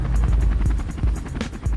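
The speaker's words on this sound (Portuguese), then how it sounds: "O helicóptero à prova de balas." Bulletproof police helicopter flying over Rio de Janeiro for anti-narcotics operations, its rotor throbbing in a steady, fast rhythmic thump with a loud, continuous engine roar close by.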